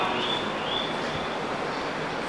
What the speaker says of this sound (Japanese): まもなく5番線に列車が到着いたします。